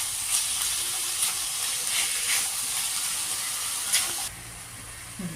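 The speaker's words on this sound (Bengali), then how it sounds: "এই যে আমি এখন সব একসাথে কড়াইতে ফ্রাই করে নেব।" Chicken cubes, onion and capsicum sizzle together in a kadai with a steady, bright hiss and occasional stirring scrapes, the frying dropping quieter near the end; no one speaks.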